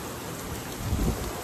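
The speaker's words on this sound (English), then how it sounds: "T-storm, rainstorm, that's what's going on outside." A thunderstorm's rain pours steadily outside a shop door, a soft, constant hiss with a faint low rumble swelling briefly near the end, quiet and without talk.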